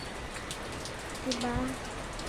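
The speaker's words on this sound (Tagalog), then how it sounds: "Kasi ito po itsura ng ulan." Steady typhoon rain pours down as a dense, constant hiss, with a person briefly speaking over it.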